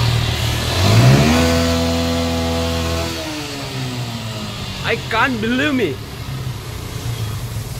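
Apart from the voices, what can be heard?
Yamaha Fazer motorcycle engine revving at service showroom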